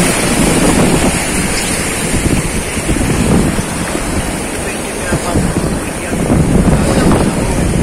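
Strong ocean waves at high tide on the coast of General Nakar, Quezon, a loud continuous surf roar with rolling swells, heavy wind buffeting the microphone and a voice faintly underneath.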